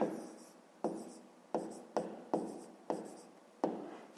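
Pen on paper as a math calculation is written out by hand, with seven or so sharp, close taps and short scratches that each fade away, with no talking.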